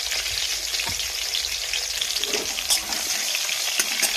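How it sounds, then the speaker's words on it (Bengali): Eggplant slices frying in hot oil in a home kitchen, a steady close sizzle running throughout with occasional sharper pops and crackles, no voices. "আগে বেগুনগুলো ভেজে নিই"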